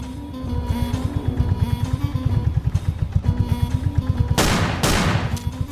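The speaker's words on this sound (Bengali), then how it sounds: "জঙ্গল থেকে একটা গুলির আওয়াজ এলো না?" A gunshot in an animated Sundarbans jungle scene cracks out in a sharp, loud burst, then a second, under the steady rhythmic chugging of a boat engine nearby.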